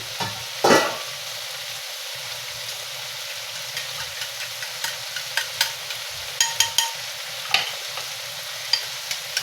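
Egg frying in a pan while being stirred, a steady low sizzle broken by scattered soft clicks and scrapes of the utensil, close and fairly quiet.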